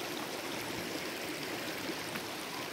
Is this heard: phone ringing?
no